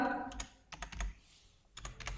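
Quick bursts of keystrokes on a computer keyboard, a few clustered taps followed by a pause and then another short flurry, close and clear with no talking over them.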